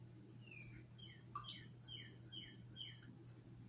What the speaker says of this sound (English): There's a nice little bird singing.